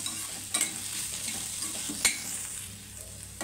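Garlic pieces frying in a pan for Andhra-style radish chutney, giving a steady broadband sizzle with two sharp stirring clicks and scrapes, close and fairly quiet, no voices.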